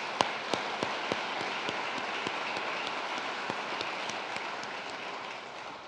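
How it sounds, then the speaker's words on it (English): Steady, distant applause from a college audience at a 2022 presidential address at Weatherford College, honoring student groups. It sounds as a soft, even patter with a few sharper claps throughout, and no talk over it. "Would you please join me in one more round of applause for all of our student groups?"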